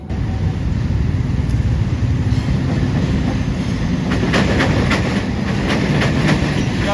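A passenger train hauled by a CC206 diesel locomotive passes close and loud in Indonesia, with a steady heavy rumble and a rhythmic clickety-clack of wheels over rail joints building toward the end.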